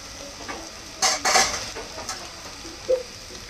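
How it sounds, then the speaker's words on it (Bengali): Fried vegetable stems and potatoes being lifted out of a pan, a soft background sizzle broken by a few clattering scrapes of a utensil against metal, clustered near the middle and one more toward the end. "দেখো আমার ডাটা আলুগুলো ভাজা হয়ে গেছে,"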